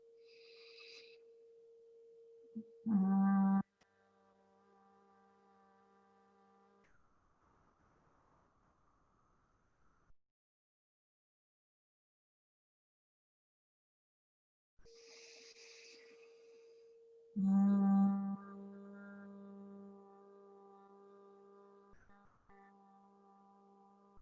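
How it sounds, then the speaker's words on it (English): A group humming together during a yoga breathing exercise with ears closed and nasal passages narrowed, giving two steady, sustained drones, each rising after a short breath in and holding for several seconds in a quiet room. "You close the ears, narrow the nasal passage, and just breathe in and hum."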